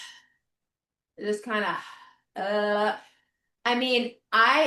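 A person demonstrating pursed-lip exhale breathing for core activation: several long, steady, breathy exhales with voiced, sigh-like tone, each about a second, separated by quiet pauses, close to the microphone.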